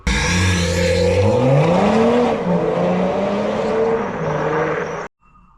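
Audi A7 3.0 TDI Quattro diesel fitted with a custom Powerflow exhaust, revving loudly and alone, pitch climbing through a sustained, deep, booming note before cutting off abruptly.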